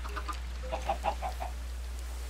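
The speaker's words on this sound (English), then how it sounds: "Oh, we have another chicken in there." Minecraft chickens clucking in short, faint bursts, a few soft clucks followed by a quicker run of clucks, alone without talk.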